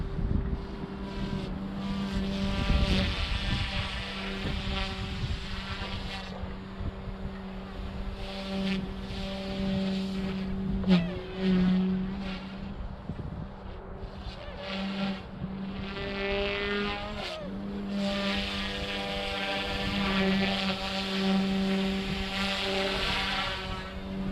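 A Goosky S2 Legend RC helicopter flies aerobatics, its motor and rotors giving a steady high-pitched whine that rises and falls as it maneuvers, heard continuously from a moderate distance with wind noise on the microphone.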